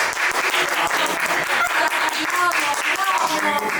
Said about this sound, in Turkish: Hadi alkış.